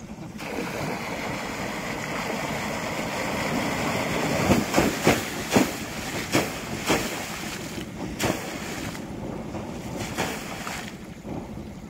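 Air compressor motor forcing water up and out of a farm borewell pipe, a loud continuous roaring rush with a series of sharp gushing surges in the middle.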